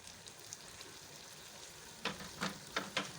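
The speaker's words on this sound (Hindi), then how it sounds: "अब मैं इसको भूनूंगी।" Black chickpea masala frying in oil in a pan, a soft steady sizzle with a few louder bursts of stirring or scraping near the end, close and alone without talk.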